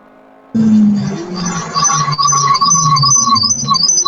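A loud race car roars close by at a Gingerman Raceway endurance race, a sudden blast of engine noise that rises abruptly and holds with a rough, revving drone.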